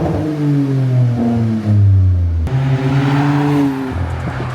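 A car engine revs loudly up and down through its exhaust, a deep throaty growl rising and falling in pitch, close by with no talking.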